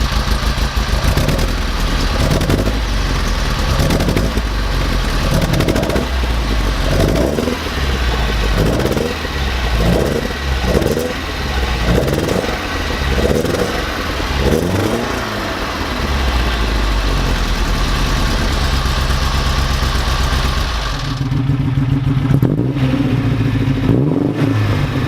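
Alfa Romeo GT Junior engine revving repeatedly through an old exhaust and then a new exhaust, a loud, close series of rhythmic blips and revs over a steady idle, ending in a deeper, smoother idle.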